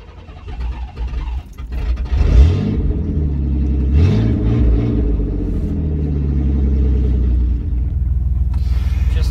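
A truck engine rumbles steadily up close, rising in pitch as it pulls away and settling into a deep, sustained drone.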